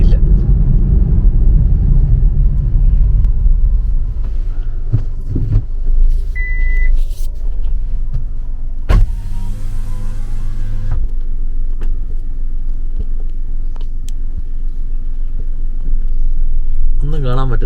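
From inside a car driving along a road through a rubber estate, a steady low engine and road rumble fills the cabin, with a short electronic beep and scattered clicks and knocks along the way.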